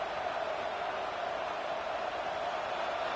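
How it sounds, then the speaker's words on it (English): A dense, steady roar of a large college football stadium crowd in a video game, Texas A&M at Oklahoma, fills the space, a constant wash of cheering noise with no breaks. "this crowd is fired up. Listen to this noise here."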